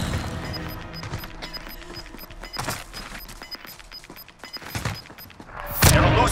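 Gunfire in the video game Call of Duty Warzone, with scattered sharp shots and short bursts over busy game sound, ending in a louder crashing blast.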